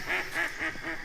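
Ducks at an Ozarks spring quack in a steady series of four or so calls, moderately close, over a soft background of flowing water and outdoor ambience.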